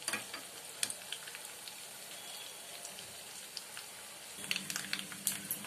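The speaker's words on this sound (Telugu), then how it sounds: "ఇలా ఎల్లుల్లి ఎర్రగా వేగాలి." Crushed garlic tempering frying in hot oil for gongura tomato pickle, a steady faint crackle and sizzle with scattered small pops, close and quiet throughout, no voices.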